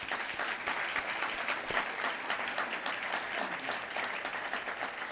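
Audience applause honoring a broadcaster's 40-year celebration at an event, sustained dense clapping at moderate distance, steady and continuous with slight swells.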